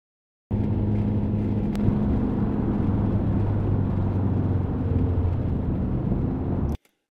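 Video audio sped up 500% turns into a dense, whirring rumble like a racing car engine, loud and unbroken for about six seconds, starting and stopping abruptly.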